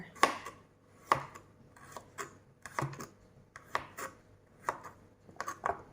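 A knife chops garlic and chili on a cutting board in a steady series of sharp, close knocks, about one or two per second.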